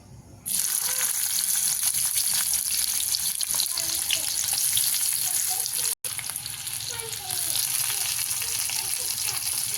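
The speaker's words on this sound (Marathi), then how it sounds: "आता आपण ह्याच्यात कांदा टाकून घेऊया" Onion frying in a pan for chicken sukka gives a loud, dense, steady sizzle throughout, broken by one brief dropout midway, with faint stirring beneath.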